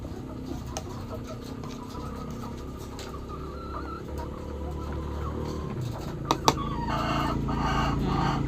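A lame chicken with an injured leg clucks faintly over steady background noise, with a few sharp taps near the end.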